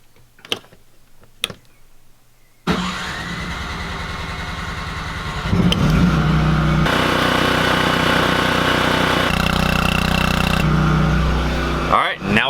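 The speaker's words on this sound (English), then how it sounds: "turn on the generator, get things kind of warmed up so it's easy to get that oil drained out of the system" A Cummins Onan 2500 LP propane generator cranks and fires up after a few faint clicks, then settles into a steady, loud running drone that continues to the end, with a brief shift in tone midway.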